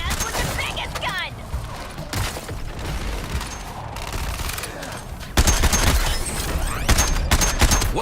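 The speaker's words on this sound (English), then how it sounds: "It's hitting us with the biggest gun!" A big gun firing in Suicide Squad: Kill the Justice League, heavy repeated blasts and rapid gunfire bursts with mechanical clanks, loud and chaotic, with shouted voices over the top.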